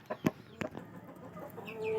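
Chickens about seven months old cluck close by in a few short bursts, followed by a longer, drawn-out bird call.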